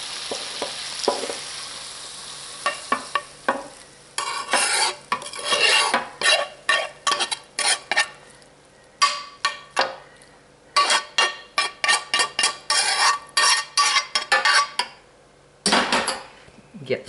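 A utensil spreads breakfast casserole mixture across a pan in a rapid series of close scraping and clacking strokes, with short pauses between bursts and no talking.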